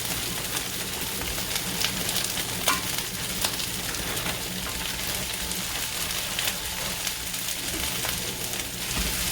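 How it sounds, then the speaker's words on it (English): Broccoli florets and mixed vegetables stir-frying in a pan for veggie lo mein, a steady close crackling sizzle with scattered sharper pops and stirring clatter, continuous throughout with no talking. "We're going to stir fry this"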